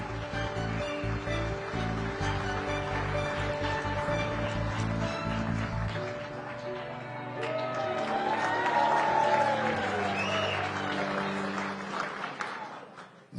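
Audience applause greets Miami Mayor Francis Suarez, president of the U.S. Conference of Mayors, at the nation's mayors' annual conference, a steady crowd roar that swells midway and holds for the whole stretch.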